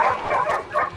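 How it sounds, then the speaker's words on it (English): Wolves in a video game let out a quick burst of yelping barks, loud and close within about a second. "Shit, there's some wolves!"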